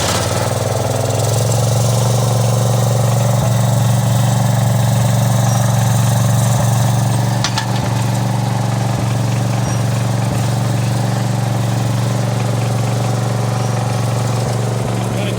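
A John Deere 300 riding mower engine revs up, a loud, close, steady running drone that swells in pitch and then settles back, holding throughout, with someone talking briefly over it.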